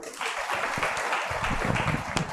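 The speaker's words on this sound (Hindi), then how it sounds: "बहुत बढ़िया, तालियां बजा दो।" An audience at a religious discourse in Nagpur claps together, a brief dense burst of applause close by.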